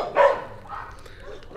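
A dog in Cullinan, South Africa, gives a couple of short barks at the start and end of a brief moment, moderately near with quieter gaps between.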